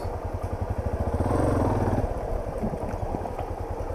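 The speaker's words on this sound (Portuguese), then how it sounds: "Vou parar a moto aqui." A motorcycle engine idles close by on a farm with a steady rapid chugging putter, briefly swelling a little louder before settling back down.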